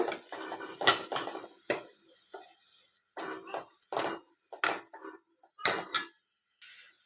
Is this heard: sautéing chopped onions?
yes